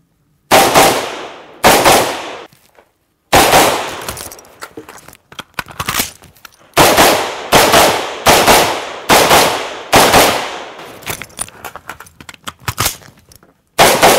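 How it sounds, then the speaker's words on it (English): AR-15 rifle fired crossbody at three targets at varying ranges, with a speed reload partway through: loud, close shots in quick clusters of sharp cracks, broken by a short pause for the magazine change before firing resumes. "going to show you shooting crossbody now on 3 targets at various ranges with a speed reload in the middle"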